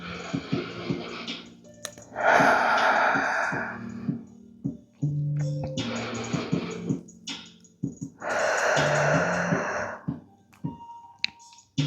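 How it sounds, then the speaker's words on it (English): Slow, even breaths drawn in through the nose and let out through the mouth during a yoga flow, each long exhale a soft close rush, repeated over soft background music. "Inhaling through the nose, exhaling through the mouth, trying to make your breaths nice and even."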